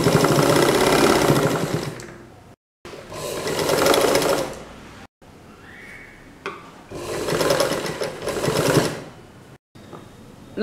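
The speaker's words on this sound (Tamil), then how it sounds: "இந்த மாஸ்க்கும் வாரையும் சேர்த்து வச்சு தைக்கணும்" A sewing machine stitches an elastic strap onto a double-layer cloth face mask in three rapid whirring bursts separated by brief pauses, close and clear with no talking.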